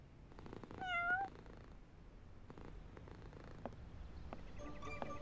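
An animated cartoon cat lets out a short rising meow near the start, followed by soft purring and faint rustling, quiet and close with no speech.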